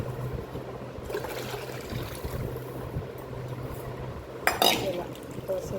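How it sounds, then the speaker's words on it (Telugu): Tamarind pulp water is poured into a cooking pot, a low steady trickle under faint kitchen noise, with a brief splash and clink of the vessel near the end. "ఈ వాటర్ ఇందులో పోసేసుకుంటాను"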